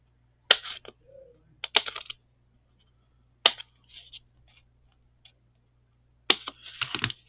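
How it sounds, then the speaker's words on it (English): Scissors cut paper at a crafting desk: a few crisp, close snips come in short bursts separated by quiet pauses. "Then I take my scissors and I cut."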